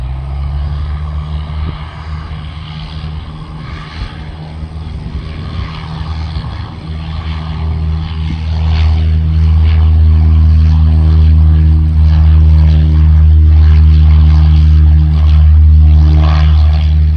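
A Beechcraft Bonanza propeller plane passes at an airport, its steady droning engine building and growing louder midway, with no talk over it.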